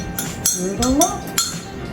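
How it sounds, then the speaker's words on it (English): A spoon clinks against a coffee cup while stirring, a few bright metallic taps spaced irregularly, with a voice speaking briefly over them. "Stir it all up."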